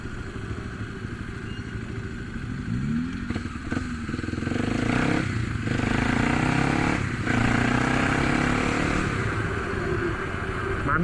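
Kawasaki KLX250 motorcycle fitted with an aftermarket exhaust, lugging at low revs in a high gear; a steady, loud, throbbing engine drone with rising pulls of throttle, close by and continuous.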